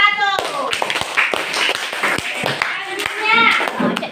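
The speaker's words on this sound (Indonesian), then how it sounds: "Silakan tepuk tangan untuk kelompok 1." A classroom of children claps for the first student group, a dense burst of sharp hand claps running throughout, with kids' voices and chatter mixed in.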